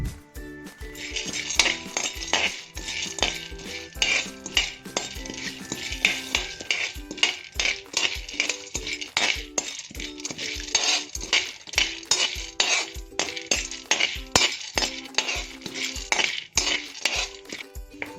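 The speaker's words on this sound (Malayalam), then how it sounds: "നെയ്യ് ചൂടാകുമ്പോൾ ആദ്യമായിട്ട് നമുക്ക് കടലപ്പരിപ്പ് വറുത്തെടുക്കാവേ" Chana dal is fried and stirred in ghee in an iron pan for a Kerala snack. A fast, rhythmic metal spoon clinks and scrapes against the pan almost without pause over a soft sizzle.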